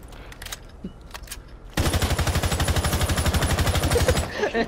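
Sustained automatic gunfire in Rainbow Six Siege: a loud, rapid, evenly spaced burst of shots follows a few scattered quieter noises and runs nearly to the end.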